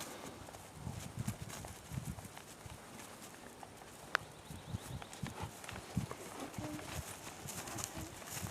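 Horse hooves clip-clop in an irregular walking rhythm, soft and somewhat distant over faint outdoor ambience, with a single sharper knock midway and no talking.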